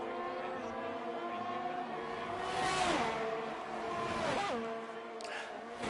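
A Ferrari race car engine howls through a flying lap in a racing video game. The note stays high and sustained and shifts pitch with gear changes, with faint talk underneath.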